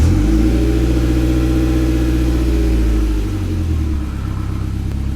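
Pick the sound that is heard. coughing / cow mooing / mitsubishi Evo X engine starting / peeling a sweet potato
mitsubishi Evo X engine starting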